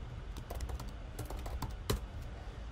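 Keys clatter on a computer keyboard while a layer name is typed during web design work in Builder.io, a short run of close, crisp keystrokes with a slightly heavier tap near the end.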